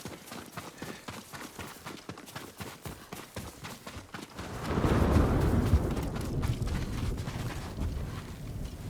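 Horse hooves clip-clop in a quick, steady rhythm in the video game Ghost of Tsushima, then give way to a louder rush of wind or water noise that fills the second half.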